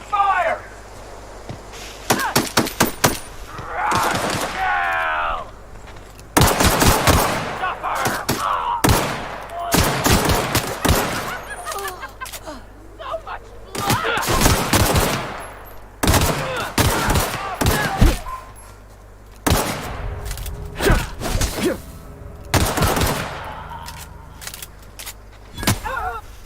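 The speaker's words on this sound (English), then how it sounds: "Open fire!" Bursts of sci-fi gunfire in The Outer Worlds, rapid volleys and single shots crackling in clusters throughout, loud and close, with a voice calling out over the shooting.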